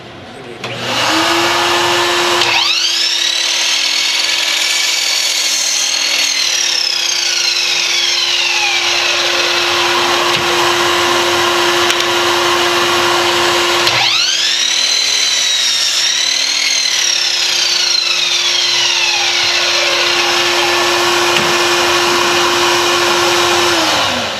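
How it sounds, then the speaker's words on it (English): A power saw runs steadily with a loud sustained whine while its blade cuts through wood in a woodworking shop, the pitch sweeping up and dropping as the blade bites into the wood, twice in a row. "When you start the machine up, you give the blade a chance to start to turn, so it can have time to cut the wood"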